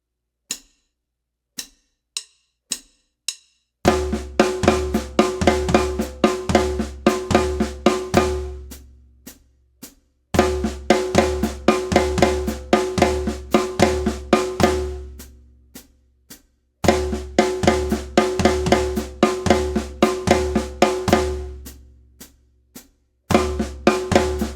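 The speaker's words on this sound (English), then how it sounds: "On just the snare and floor tom, that's going to sound like this." Flam accent drum phrase played on just a snare and floor tom, opening with a few sparse single hits, then repeated loud, rapid accented runs in three bursts with brief gaps, close and alone with no talking.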